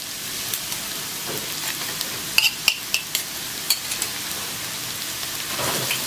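Chopped onions and ginger-garlic paste sizzle in a hot pan under a steady hiss, with a utensil scraping and clicking as the contents are stirred.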